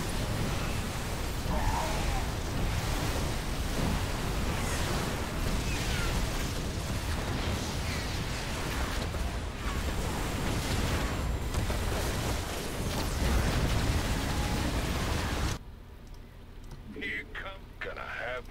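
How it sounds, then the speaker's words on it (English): Cluster mine explosions from Reapers in a StarCraft 2 Direct Strike match crackle as dense bursts and pops under continuous talking, then the game noise drops to a quieter level near the end. "The cluster mine explosions are where Reapers really shine."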